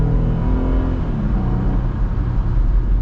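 The V8 Hemi in a 2026 Jeep Gladiator accelerates with a deep, steady engine drone, its pitch climbing as it revs, heard close and loud with no talking.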